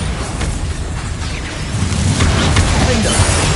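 The Bombarda blasting spell explodes in Hogwarts Legacy with a loud, close, rumbling boom that swells and then holds as a dense crashing roar amid ongoing spell combat.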